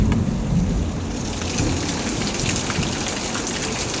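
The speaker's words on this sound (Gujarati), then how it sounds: "બહાર વરસાદ બહુ ભૂક્કા બોલાવે છે ને મારા પતરાવાળા રૂમ છે ને પતરામાં ઉઠે પાણી પડવાનું ચાલુ થઈ ગયું છે" Heavy monsoon rain in Surat drumming hard on a tin-roofed room, a dense continuous roar of drops with thunder rumbling low beneath it and no voices.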